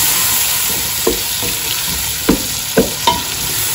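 Chopped tomatoes fry with ginger and garlic in a pan, a steady sizzle with a few distinct scraping stirs of a spoon near the end.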